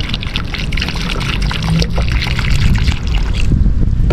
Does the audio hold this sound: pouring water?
yes